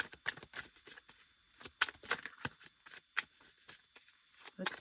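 Tarot cards being shuffled by hand, a quick run of crisp papery riffles and flicks with irregular rhythm, close and fairly quiet, with no talking over it.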